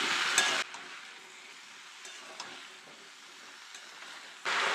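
Pumpkin and potato pieces sizzle softly in a pan, with two louder bursts of stirring and scraping at the start and end framing a quieter, steady frying hiss.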